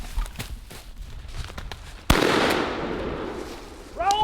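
A single loud shotgun blast at a turkey during a spring hunt in Iowa cracks out about halfway through, followed by a long echoing decay, with faint rustling before and a brief voice at the end.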